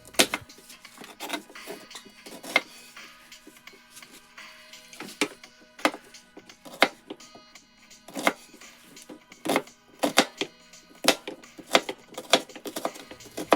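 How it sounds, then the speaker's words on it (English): Cilantro and an onion being chopped on a board, irregular sharp knife knocks in quick clusters and single strikes, close and fairly crisp, no talking. "Then chop it up."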